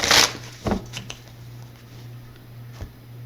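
Tarot cards being shuffled by hand, a quick papery riffle burst at the start followed by a couple of soft taps over a quiet room with a steady low hum.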